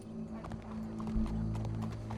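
Hooves clip-clop at a steady walking pace in the video game Red Dead Redemption 2, fairly close, with a low musical drone and ambient sound underneath.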